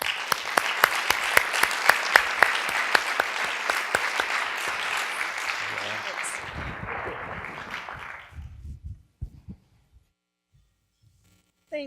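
Audience applause greets Joanne Eudes as she comes to the stage at the HCIC 2013 John Eudes Award presentation. Steady, dense clapping with a few sharp individual claps near the front, fading out over several seconds into near silence.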